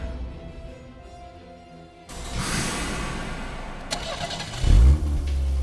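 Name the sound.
car engine starting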